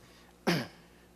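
A single short cough, or a rough clearing of the throat, bursts out once in a quiet room during a formal hearing and then falls back to faint background hum.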